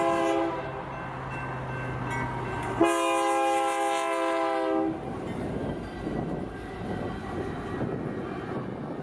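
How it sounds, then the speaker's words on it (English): North Coast Limited passenger train rolling at speed past small farm towns, a steady loud rumble with a sustained two-tone horn blast in the middle, then continuing wheel and car noise. "with our train hitting anywhere between 60 to 80 miles per hour"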